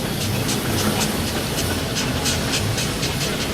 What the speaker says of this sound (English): Now we have a replica steam car, this.